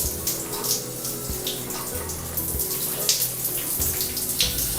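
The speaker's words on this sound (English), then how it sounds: "turn on the water, make sure all your hair is combed back" Water runs steadily from a hand shower with a hissing spray, splashing unevenly and close by with no voices.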